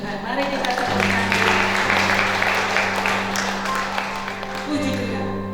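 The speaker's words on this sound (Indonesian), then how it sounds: "mari kita tepuk tangan." Guests at a Christian wedding ceremony applaud together, a sustained burst of clapping that swells then eases under a steady low hum, with voices mixed in.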